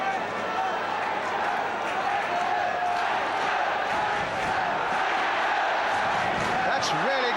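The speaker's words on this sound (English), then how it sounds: "That's really got the crowd going." Football crowd at a 1975 League Division One match between QPR and Burnley cheering and roaring in a steady, loud wash of stadium noise, with a commentator's voice running over it.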